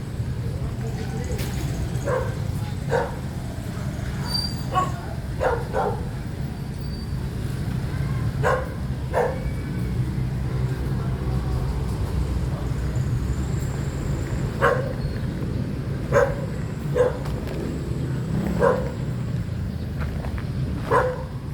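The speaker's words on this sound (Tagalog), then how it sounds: "Ang dami nilang aso." Several dogs bark in short scattered bursts over steady low background rumble and people talking, the barks sharp and moderately close.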